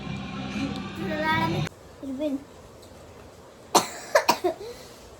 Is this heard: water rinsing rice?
no